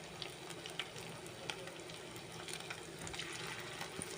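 Chicken pakoda fries in hot oil with a soft, continuous crackling sizzle and faint bubbling, steady and fairly quiet throughout, with no voices.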